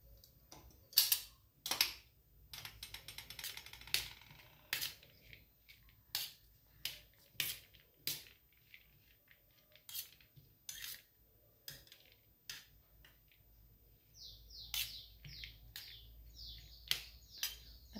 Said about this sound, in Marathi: आता हे मिक्स करून घ्यायचं आहे.